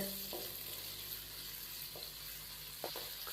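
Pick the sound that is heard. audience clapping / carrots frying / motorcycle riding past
carrots frying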